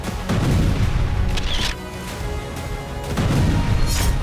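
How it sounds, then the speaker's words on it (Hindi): A Russian missile strike hits the drama theatre building in Chernihiv, Ukraine, producing a loud, sustained low roar that swells, dips and surges again, with no voices. "धमाके से इलाका दहल उठा"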